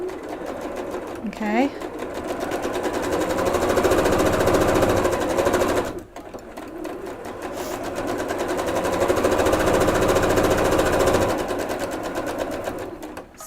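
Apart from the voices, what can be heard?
sewing machine chain stitching quilt half-square triangle blocks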